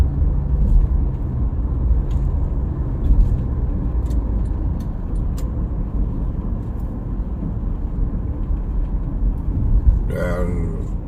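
Traffic flowing steadily on the JORR W1 toll road in Jakarta under overcast skies, a continuous low engine and tyre rumble from passing cars and heavy vehicles, with a short sharp sound near the end.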